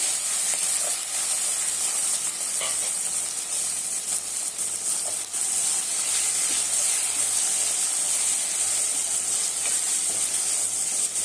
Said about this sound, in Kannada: ಎಣ್ಣೆಯಲ್ಲೇ ಚೆನ್ನಾಗಿ ಫ್ರೈ ಆಗಬೇಕು ಈರುಳ್ಳಿ ಚೆನ್ನಾಗಿ ಫ್ರೈ ಆಗಿದೆ